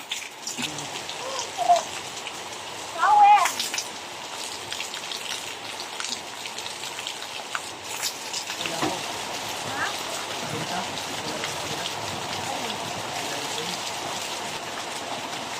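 Steady rain patters continuously on a surface in a backyard throughout, with a few faint voices and brief clatters mixed in early on.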